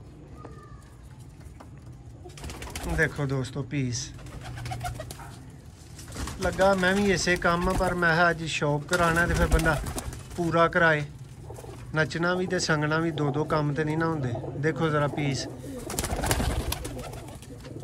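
A flock of Sialkoti black-faced pigeons coos on and off beneath someone talking at length, with a brief flutter of wings.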